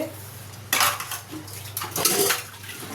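Dishes and pots are scrubbed and rinsed under running water, with loud metallic clatters and clanks of vessels and cutlery in irregular bursts over splashing, and no talk.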